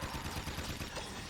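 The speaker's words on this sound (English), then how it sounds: "we're gonna pull out the Vulcan Fury, try and tap fire" Rapid bursts of gunfire from the Vulcan Fury being tap-fired in Jak II, a dense, steady chatter of shots at even loudness throughout, with no talk over it.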